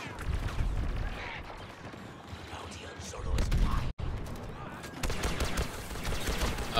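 Rapid blaster-style gunfire from Star Wars Battlefront 2 crackles in uneven bursts, loud and close, with a brief cut to silence midway before the shooting resumes.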